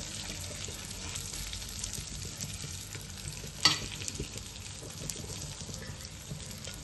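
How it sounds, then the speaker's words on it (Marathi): Chilli masala sautéing in a pan as it is stirred, a steady low sizzle with soft scraping throughout and one sharper clink of the spoon partway through, with no talking. "छान परतून घ्यायचे आहे."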